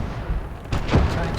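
A 75mm tank gun fires during a battle in the Kelly's Heroes video game, giving a heavy booming report that rumbles and echoes over constant battlefield noise.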